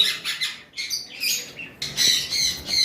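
Female lutino cockatiel squawking: a run of harsh, raspy calls close by in several bursts, with short pauses and a louder final stretch, no talk.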